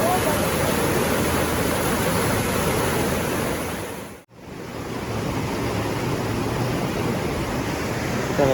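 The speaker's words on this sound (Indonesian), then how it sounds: "Aliran airnya cukup deras." Fast-flowing river water at a riverside campsite in Rancabali, Bandung, rushes in a loud, steady broadband roar close by, with a brief dropout midway before the torrent resumes at full strength.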